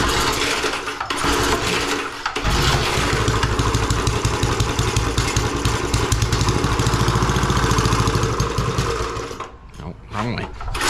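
A small garden tiller engine runs after a choked start, its close, loud, buzzing putter steady for about nine seconds before it sags and dips near the end.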